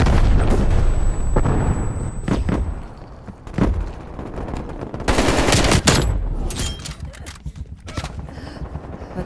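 Gunfire and explosions in a Call of Duty Cold War Hardpoint match, loud bursts of rapid automatic fire mixed with heavy booming blasts and artillery impacts, dense and close, trailing into scattered shots.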